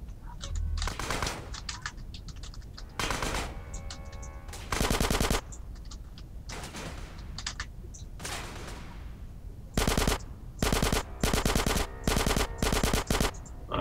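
Video game gunfire from GTA San Andreas, with bursts of rapid automatic shots cracking loudly in short repeated volleys over background game noise. The volleys grow denser and more rhythmic toward the end.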